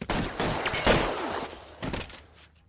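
A rapid fusillade of gunshots rings out in an L.A. Noire shootout, several sharp cracks in quick bursts with echoing tails, loud and close, tapering off toward the end.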